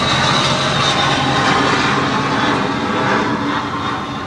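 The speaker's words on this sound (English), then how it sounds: "And of course, here comes a plane." A jet plane passes overhead along a flight path, producing a loud, steady broadband roar that fills the whole stretch and fades slightly toward the end.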